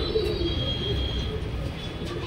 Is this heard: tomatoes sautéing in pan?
no